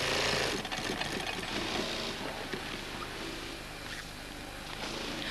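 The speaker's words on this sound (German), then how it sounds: "Hier wird noch eine Tasche drauf genäht." An industrial sewing machine stitches a pocket onto a school bag on a factory sewing line, giving a loud continuous mechanical whirring rattle throughout.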